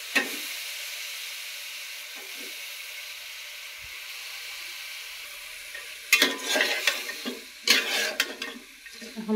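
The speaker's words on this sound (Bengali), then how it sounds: "এখন ভালো করে নেড়ে ছেড়ে দেবো।" Vegetables fry in a pan with fried onions, a soft steady sizzle that turns into louder bursts of stirring and scraping toward the end.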